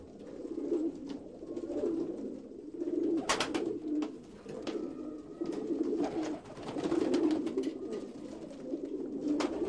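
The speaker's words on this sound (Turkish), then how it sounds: "İşte biz posta güvercini besliyoruz." Homing pigeons coo in low, soft repeated bursts from a loft, rolling phrases overlapping steadily and fairly close, with faint sharper bird calls and rustling in between.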